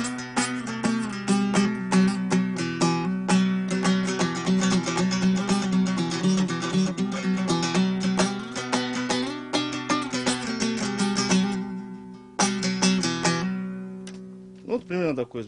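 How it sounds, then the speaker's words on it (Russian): A Uyghur folk dutar plays a steady, densely plucked melody over a droning lower string, loud and close with no voices, pausing briefly near the end before a few final notes. "уйгурский народный инструмент дутар"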